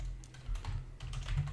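Code is typed on a computer keyboard for a Java game tutorial: quick, light key clicks come in short irregular bursts at a close, fairly quiet level, with no one speaking.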